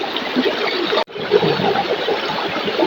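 A river stream flows steadily by an outdoor riverside cookout, a dense, continuous rush of water close to the mic with a brief dropout partway through and no clear talk.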